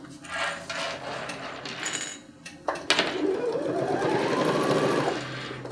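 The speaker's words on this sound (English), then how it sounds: "you want to like back stitch over where the D-ring is, just to give it a little reinforcement." A sewing machine back stitching over a D-ring on a fabric bag, bursts of rapid mechanical stitching with short pauses and a small metallic clink, close and clear, with no voices.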